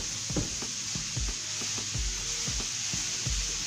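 Quinoa with baby squash and mushrooms stirred in a pan over a steady background sizzle, with soft repeated thumps and scrapes from the spoon at a regular pace.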